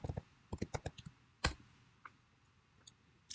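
Short bursts of key clicks on a computer keyboard, irregular and fairly close, with one sharper tap partway through and scattered faint taps after.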